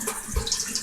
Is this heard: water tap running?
yes